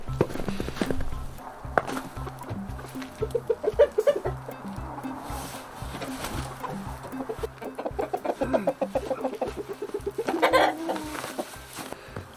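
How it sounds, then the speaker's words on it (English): Backyard chickens cluck and murmur in repeated bursts at close range, mixed with light scratching and a few sharper calls, with no voices over them. "give you guys another chicken update to see how the chickens are doing"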